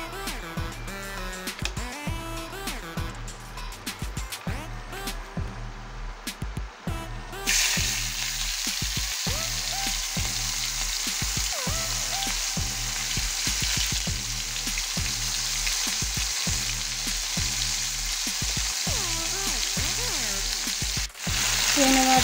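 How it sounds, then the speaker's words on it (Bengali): Prawns frying in a pan, a loud close sizzle that swells sharply partway through as the hot oil takes hold, over a steady rhythmic background beat, with no talking. "এবারে চিংড়ি মাছগুলো ভাজবো।"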